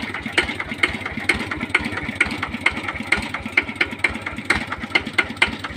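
A Kubota RT110 diesel engine with a standard injector labours while drawing water, giving a loud, close, steady rhythmic thumping with a slightly uneven, panting beat and no voices.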